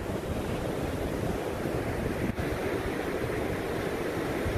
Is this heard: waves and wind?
yes